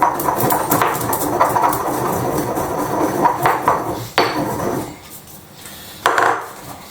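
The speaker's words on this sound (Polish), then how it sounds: "Rozcieramy troszkę pieprzu." Peppercorns are crushed and ground with repeated gritty scraping and knocking, a few sharper clacks between rougher grinding strokes, close by.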